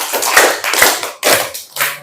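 A classroom of students claps hands together on cue, a few loud, sharp group claps in a set pattern with short gaps between them, close and with no talk.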